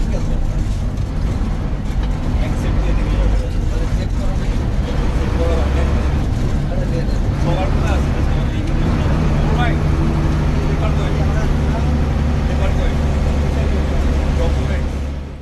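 A bus engine drones steadily with heavy low rumble at an army checkpoint in Bandarban's hills, loud and continuous throughout with faint background voices.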